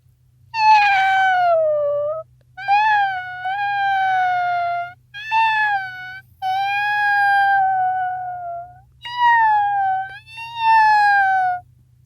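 A young boy imitates a cat, giving six drawn-out, loud, whiny meows one after another, each a second or two long with short pauses between, sounding close and clear over a low background hum.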